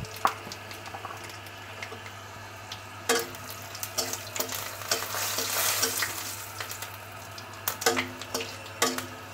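Half a spoon of panch phoron spices crackles and sizzles in hot oil, with scraping stirring strokes and clinks of a utensil. The sizzle swells into a loud, hissing burst partway through.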